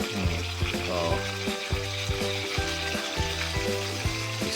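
Tilapia fish frying in hot oil, a steady crackling sizzle with rhythmic clanks of a utensil against the pan, close and loud throughout.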